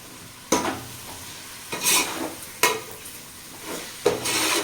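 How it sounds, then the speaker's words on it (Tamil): Meat sizzles in a pot while being stirred, with four distinct bursts of scraping and hissing at irregular intervals over a quieter steady fry. "இதை நல்லா வதக்கி எடுத்துக்கோங்க"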